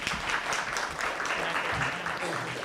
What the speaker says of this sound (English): Let's give Mr. Preston Parker a round of applause.